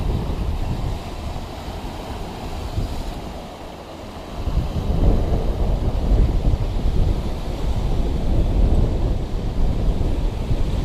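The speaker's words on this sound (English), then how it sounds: "The water is extremely rough today." Rough water on Georgian Bay surges and crashes continuously against the shore while strong wind roars across the microphone, a dense, loud wash of noise with no voices.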